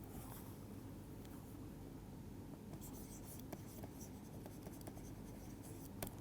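Marker or chalk scratches across a board during a thermodynamics lecture, faint steady strokes with some light taps, under a noisy room hum.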